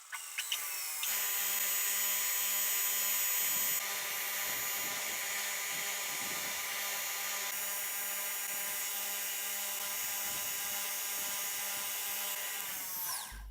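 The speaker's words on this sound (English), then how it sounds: "went to grind it down to its final shape" A belt grinder grinding a tempered, forged steel knife blade down to its final shape, a continuous high whining drone with steady hum and shifting pitch as the blade is worked, running alone for over twelve seconds.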